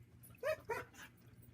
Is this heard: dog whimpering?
yes